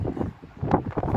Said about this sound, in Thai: อากาศบนนี้ลมพัดแรงเย็นสบายเลยครับตอนนี้ครับ